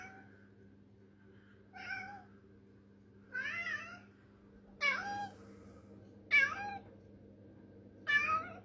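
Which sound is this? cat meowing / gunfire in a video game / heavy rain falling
cat meowing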